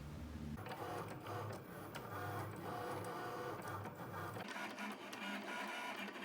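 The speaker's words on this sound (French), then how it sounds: "La machine se lance toute seule. Elle vérifie les outils, elle vérifie que tout fonctionne bien et ensuite elle va se mettre à découper." A Cricut Maker cutting machine runs through a paper-cutting job, whirring and ticking steadily as its carriage moves, with a shift in the motor tone near the end and no voices.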